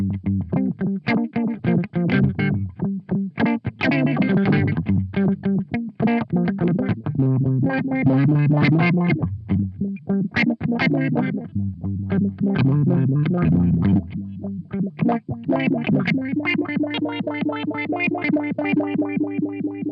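Electric guitar chords and riffs pass through the random filter mode of a Keeley Bubbletron pedal, a warbling filter that jumps unpredictably, giving a wobbly, stepped, synth-like tone throughout.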